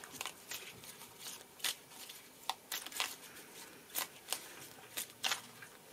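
Playing cards being shuffled by hand give a quiet, irregular run of soft riffling snaps and flicks, close up, with no voices.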